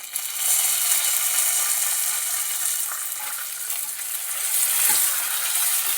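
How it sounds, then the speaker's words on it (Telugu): Dried red chillies tossed into a hot pan of browning oil, giving a steady, close sizzle and crackle that swells slightly near the end, with no voices. "నెక్స్ట్ ఎండుమిర్చి కూడా వేసేసుకుందాం దీంట్లోనే."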